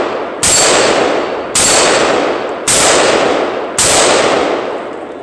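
Four gunshots strike steel targets at the range, each crack followed by a loud metallic clang that rings and slowly fades before the next, evenly spaced.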